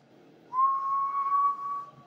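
A whistle into the microphone of an Anytone AT5555N2 CB radio comes through as one steady, clear tone of about a second and a half, starting sharply after a short quiet moment, close and fairly loud.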